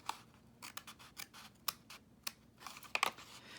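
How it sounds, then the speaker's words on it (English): Scissors snip through paper while small windows are cut out for a nature folio craft, a run of crisp close cuts in an uneven rhythm, quiet and alone with no talk. "So I'm just gonna get my cutter bee, scissors, and cut these little windows out."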